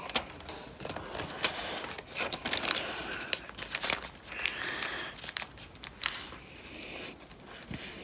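A single sheet of paper is creased and folded into an origami peacock, with close crisp crinkles, rustles and sharp snapping creases in an uneven rhythm.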